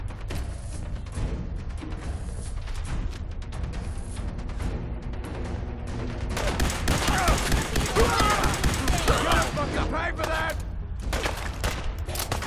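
Gunfire in Fallout 4, a dense fusillade of shots that grows louder and busier midway, with voices talking and reacting over the shooting.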